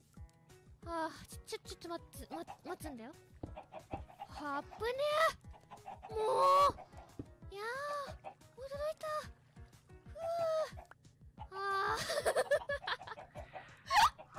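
Chickens clucking in a video game, a series of short, fairly loud squawks and clucks in scattered bursts with brief pauses between them.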